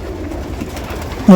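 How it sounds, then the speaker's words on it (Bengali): A dense chorus of pigeons coos at a large Saudi Arabian farm holding thousands of birds, a constant low rumbling murmur up close, ending in a sudden louder burst. "এই ভাইয়ের সাত হাজার সাত হাজার কবুতর আছে"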